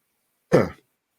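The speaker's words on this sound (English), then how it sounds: "I'm going to cough here." A single short, close cough, a quick burst of about a quarter second, followed by silence.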